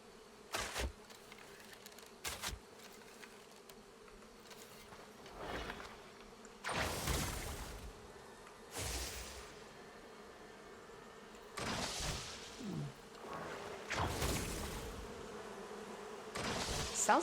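Bees buzz near the microphone in repeated loud passes, each a few seconds long, over a quiet background hum, with no speech.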